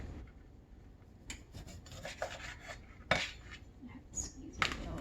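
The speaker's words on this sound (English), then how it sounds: "I want to zest the whole lime." A whole lime being zested on a grater for a Thai beef meal, with soft rasping strokes and scattered light clinks of kitchen utensils, close and fairly quiet with no talk.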